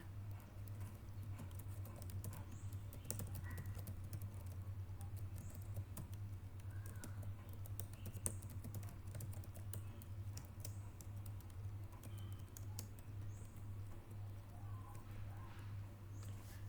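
Typing on a computer keyboard during accounting data entry, quiet scattered key clicks over a steady low hum, faint and close, with no speech.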